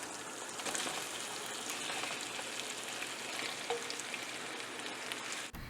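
Potatoes sizzle in a pan of hot oil seasoned with black pepper and cloves for a Gujarati dry potato subji. The frying hiss is steady and close for several seconds, then ends with a brief clunk.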